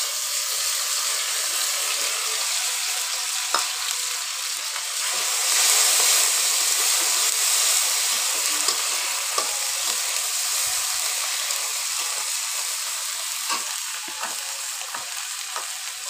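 A ground paste of cumin, ginger and onion fries in oil in a wok, giving a loud, continuous close-up sizzle with faint crackles and occasional soft scraping from stirring.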